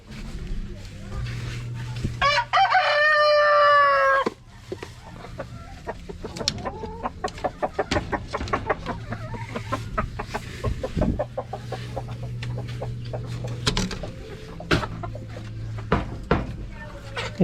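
Rhode Island Red chickens cluck and peck while eating cabbage in their pen, a busy close stream of short clucks and pecking taps, with a sharp metallic squeak early and someone talking over it.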